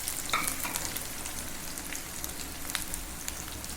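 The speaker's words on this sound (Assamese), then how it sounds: "এতিয়া এইখিনি ভাজি ল'ম।" Onion, green chilli, garlic and dried chilli fry in hot oil in a kadai, giving a steady close sizzle scattered with sharp crackles and pops, with no talking.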